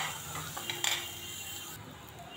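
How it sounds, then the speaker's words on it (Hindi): Chopped onions frying in a pan for dum aloo, with a soft steady sizzle and a few light scrapes of a spoon against the metal, fairly quiet and close. "प्याज को गोल्डन होने तक फ्राई कर लेंगे"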